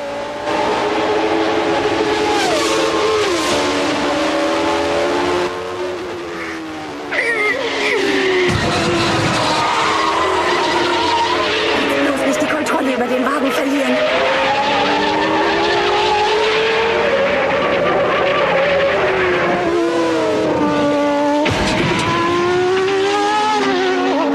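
Racing cars roar and overtake in a radio drama scene, engines rising and falling in pitch as they pass, with squealing tire skids and a brief dip in the noise midway, loud and continuous throughout.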